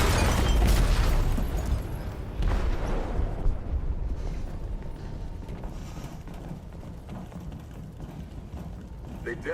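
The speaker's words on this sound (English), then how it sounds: "They detonated an explosive in the hold." A large explosive blast in a ship's hold in Detroit: Become Human, a deep booming burst up front followed by a sustained low rumble and roar that fades slowly, with no talk over it.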